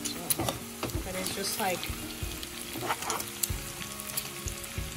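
Beef tongue in Creole sauce, two hours into cooking, sizzles and bubbles steadily in the pan with stirring clatter, close and continuous while a person talks over it.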